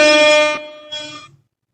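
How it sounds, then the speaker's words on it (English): A loud, close air horn sound effect on a podcast, one long, strongly pitched blast followed by a shorter, fainter second burst that cuts off into silence. "we haven't had air horns in a while"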